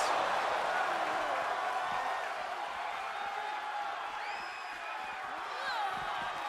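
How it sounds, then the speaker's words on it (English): A capacity crowd at a wrestling match gives off a dense, continuous roar of cheering and murmur, with scattered whoops and whistles rising out of it at moderate loudness. "you hear this capacity crowd following you on that journey"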